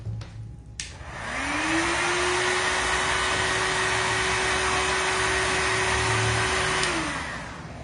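A heat gun or dryer drying paint on an MDF piece clicks on, spins up to a steady loud close whirring blow held for about six seconds, then winds down at the end.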